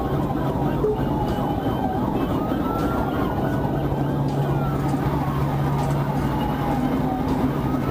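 A police patrol car's siren wails in rising and falling sweeps over the steady rumble of traffic on an interstate highway, loud and continuous throughout.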